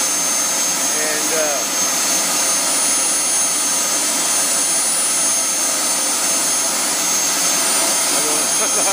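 A model F-4 turbine jet engine spools up on its first start, giving a loud, steady high-pitched whine and roar that holds for the whole stretch with only slight wavering.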